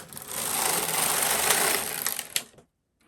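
A Knitmaster MK70 folding flat bed knitting machine carriage is pushed across a row, giving a steady loud mechanical whir and clatter for about two and a half seconds before stopping abruptly with a final clunk.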